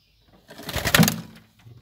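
Pet birds in a home cage, with a single close, short cooing burst rising then fading within about a second, faint background noises around it.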